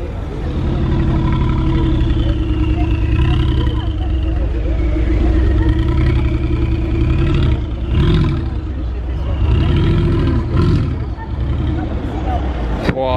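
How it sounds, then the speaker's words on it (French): A Mercedes G-Class Brabus 700 roaring and revving in the street at Juan-les-Pins, a loud continuous deep engine note that swells and dips over several seconds, with crowd voices chattering underneath. "G Brabus 700, c'est les meilleurs bruits."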